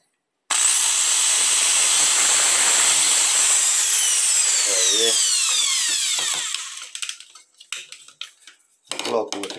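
Power drill boring a 6.5 mm hole for a homemade fishing rod holder, a loud steady high whine that slowly winds down, then drops into scattered clatter and handling noises near the end.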